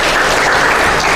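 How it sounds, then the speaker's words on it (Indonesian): A church congregation breaks into applause in praise of God, a dense, loud wash of many hands clapping together, sustained evenly without pause. "Beri tepuk tangan, beri pujian bagi Allah"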